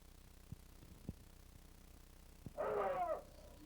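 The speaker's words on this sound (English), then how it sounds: "The dogs move right in as the boar is hurt." Hunting dogs close in on a wild boar freshly wounded by an arrow, with a few faint thumps and then a short, loud burst of snarling barks and growls near the end.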